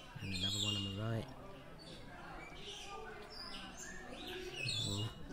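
Birds call and chirp in an indoor bird pavilion at London Zoo, with bursts of squawks at the start and end over steady background noise and murmuring voices.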